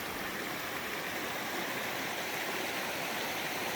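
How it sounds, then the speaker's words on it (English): Steady, close rushing of creek water over rocks, a constant broadband babble with no pauses and no voices. "this creek is kind of drowning out the sound"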